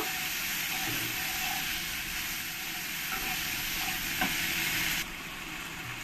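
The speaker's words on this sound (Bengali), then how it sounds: "টমেটো 2টো দিয়ে দেবো। দিয়ে ভালো করে একসঙ্গে কষিয়ে নেব।" Two tomatoes and masala are stir-fried together in a pot for a mutton and potato curry, giving a loud, dense, continuous sizzle with faint stirring scrapes, which drops slightly in level near the end.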